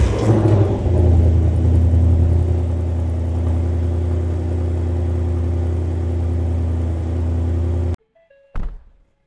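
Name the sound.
Ford Mustang engine cold start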